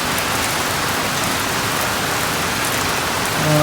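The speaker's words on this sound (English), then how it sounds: "It's still raining." Steady, heavy rain pours down close by on a sailboat hauled out of the water, a dense continuous hiss with no voices or other sounds.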